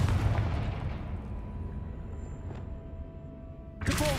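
A blasting spell explodes in the Hogwarts Legacy video game, a loud boom that rolls off into a long rumbling decay, followed by a faint ring and a sharp new burst at the end.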